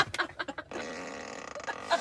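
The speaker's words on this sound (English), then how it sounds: "So we have farts on all four corners." Fart sound effect from a Tesla Model S whoopee cushion feature, a quick run of sputtering bursts followed by a sustained, buzzy, rasping blast, close and clear with no talking.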